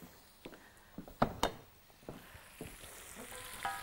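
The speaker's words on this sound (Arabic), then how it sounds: "اسمع الصوت ده السيزل الحلو" Shrimp sizzle in olive oil in a hot pan, a soft continuous crackle punctuated by louder pops and clatters as the pan is stirred, close and fairly quiet with no speech.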